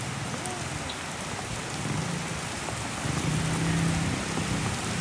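Heavy rain pours steadily in a loud, continuous hiss with low rumbles underneath, filling the whole stretch without a break.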